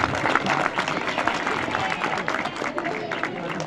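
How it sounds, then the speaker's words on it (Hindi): Sustained clapping from a crowd welcoming a guest named Girish at a moral talk and values education program, steady and moderately loud throughout, with voices mixed in the background. "सबसे पहले जोरदार तालियों से स्वागत करें"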